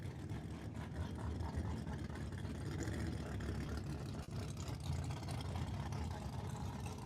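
Twin-turbo white Chevrolet S10 drag racing truck at a dragway, a steady, loud low engine rumble running continuously with broadband roar, sounding like an idling or staging engine nearby.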